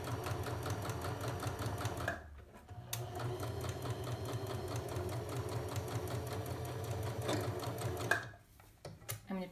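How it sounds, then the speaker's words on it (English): A sewing machine stitches a plain seam in fabric, a close steady rapid chatter that stops briefly twice as the stitching pauses, with no talking. "So we keep sewing. Until we get to the bottom edge of the fabric."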